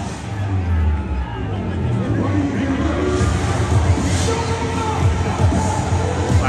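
A rowdy baseball crowd fills a Tennessee Smokies free beer night game in the bottom of the ninth. Loud, constant hubbub and chatter come from many voices, with occasional cheers and bangs rising out of the din.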